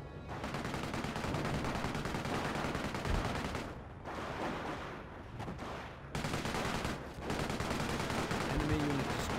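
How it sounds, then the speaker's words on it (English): Suppression machine-gun fire in a war strategy video game, long sustained bursts of rapid automatic shots broken by short pauses, loud and continuous with a faint voice underneath. "Oh, he's using suppression fire."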